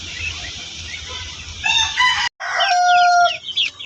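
Young 45-day-old chickens cluck softly before a rooster crows loudly and close, its call followed by more clucking from the flock.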